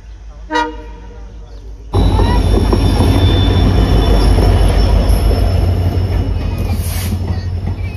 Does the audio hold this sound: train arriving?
yes